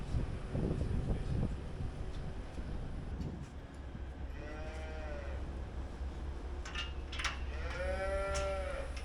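Dry dairy cows in a pre-fresh pen beside a milking parlor give two drawn-out moos a few seconds apart, moderately close over a steady low hum of barn machinery.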